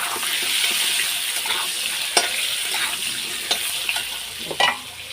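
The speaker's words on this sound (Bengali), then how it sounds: "চলো, দিয়ে দিলাম আলুগুলোকে একটু লাল লাল করে আগে ভেজে নেব।" Potatoes fry in a pan of oil for a bottle-gourd and fish-head curry, a steady close sizzle broken by a few sharp clatters of stirring.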